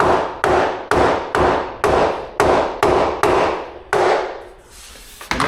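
A hammer taps a luxury vinyl plank into place over a concrete floor. About nine sharp, evenly spaced strikes ring out up close with no talking, and the last one is followed by a brief scraping.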